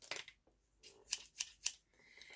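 Pink scissors from a craft kit snip a few times in quick succession, three crisp close cuts after some brief handling rustle, with no talking.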